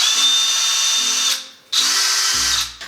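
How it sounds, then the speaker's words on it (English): A power sander working into the corners during a basement renovation, a loud close whine that runs in two long bursts separated by a short pause, then winds down. "I don't know how this sands the corners"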